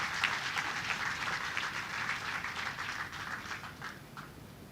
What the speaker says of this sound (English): So all these people deserve a big round of applause.